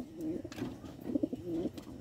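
A pigeon or dove cooing outdoors, two or three soft, low rolling coos near at hand over faint background noise.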